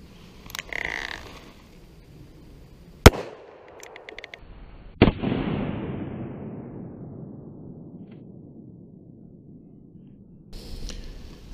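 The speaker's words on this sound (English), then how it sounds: "357 Magnum, testing level 2 body armor." Two sharp .357 Magnum gunshots fired at level 2 soft body armor from about 10 feet, the second followed by a long decaying outdoor echo, with a few faint clicks between the shots.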